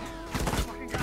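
A rapid burst of gunshots rings out in a 4v4 tournament video game match, several sharp cracks in quick succession, fairly close and mixed with a commentator's voice.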